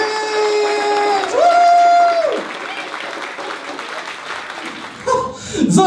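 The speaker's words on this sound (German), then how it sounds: "An den wunderbaren, einen donnernden Applaus, Standing Ovations." A comedy show audience applauds at the close of a performance: sustained crowd clapping with some laughter and cheering, while a raised, tonal voice rings out over it at first.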